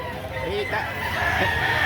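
A rooster crows once at a chicken market in Lipa, Batangas, mixed in with market chatter and other fowl close by.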